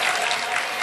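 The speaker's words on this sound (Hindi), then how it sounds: "आपकी जोरदार तालियां।" Audience applause at a mushaira poetry gathering, a brief dense burst of many hands clapping, steady and fairly loud without pause.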